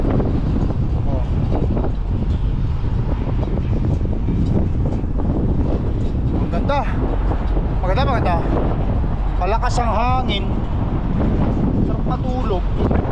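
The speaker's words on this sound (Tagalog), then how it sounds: "Mahangin dito." Steady gusting wind roars across the microphone at a riverside truck stop, a constant broadband rush that persists throughout, with faint voices and bird-like chirps sounding in the background.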